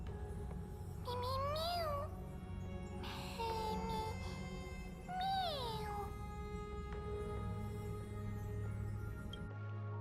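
A cat-like creature in the Honkai Star Rail video game meows three times in rising, wavering calls over a steady low background drone.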